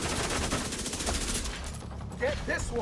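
Rapid automatic gunfire in The Division 2 rattles in a continuous close burst, with someone talking over the shooting.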